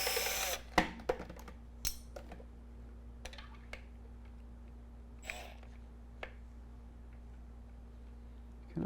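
Phillips head screws come out of a Logitech Driving Force shifter housing, making faint, sparse clicks and ticks of a screwdriver and small metal parts. There are scattered short taps over a quiet background with a steady low hum, and no talking.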